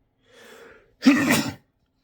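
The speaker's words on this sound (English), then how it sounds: "sneeze" A single close sneeze: a soft breathy intake, then a sharp, loud burst of air, followed by silence.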